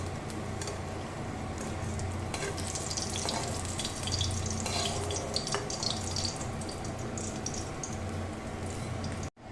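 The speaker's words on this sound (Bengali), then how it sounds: "এবার ওই মাছ সাঁতলানোর তেলের মধ্যে আমি দিয়ে দিলাম এখানে রাঁধুনি ফোড়নে।" Hot oil left from frying fish, with radhuni seeds tossed in for tempering, gives a steady, close, loud sizzle and crackle with busy pops throughout before it cuts off abruptly at the end.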